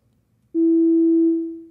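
A single synthesized sine wave tone sounds as one steady, pure held note of about a second, loud and clean with faint overtones, fading slightly before cutting off.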